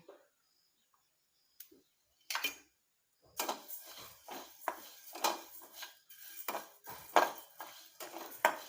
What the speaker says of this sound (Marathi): हे धने आपण त्याच पद्धतीने भाजायचे ज्या पद्धतीने आपण मेथी भाजलेली